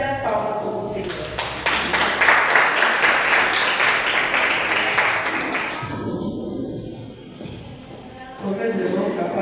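A church congregation claps together during a Portuguese-language thanksgiving service, a dense, sustained burst of applause that swells and then fades out, with voices mixed in.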